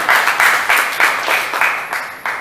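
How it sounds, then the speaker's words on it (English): Attendees at a monthly business meeting clap for a speaker, loud close bursts of applause pulsing in a quick, regular rhythm before trailing off. "Let's clap for him, Dinesh"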